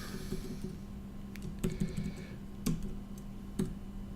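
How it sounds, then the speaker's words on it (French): A computer keyboard being typed on: quiet, irregular clicks and several sharper key taps over a low background hum, with no voices. "j'ai des petits problèmes de clavier."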